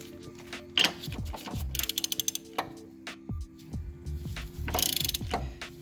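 A ratchet breaks loose the top nut on a Mazda NA Miata strut, clicking in quick bursts with short pauses and metallic clunks between strokes, close and fairly quiet.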